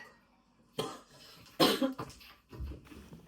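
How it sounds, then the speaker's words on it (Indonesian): A few coughs in short bursts, close by, with brief pauses between them and quiet room noise otherwise. "Terus batuk-batuk."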